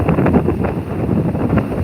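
Strong coastal wind buffeting a microphone in Infanta, Philippines, a loud continuous low roar with gusty swells and no voices.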